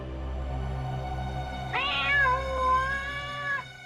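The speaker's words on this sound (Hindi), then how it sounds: "ये बिल्ली की आवाज कहां से आ रही है?" A cat meows loudly and close by, one drawn-out wavering cry that begins partway in after a stretch of low background hum and fades out near the end.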